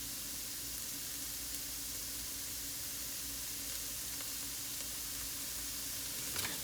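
Onion sautéing in a skillet makes a steady, even sizzle and crackle throughout, close up and alone, with a faint stirring scrape near the end.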